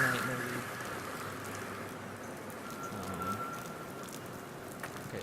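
Steady rain falls in an Unreal Engine 4 night scene, making a continuous soft hiss of drops at moderate level without a break.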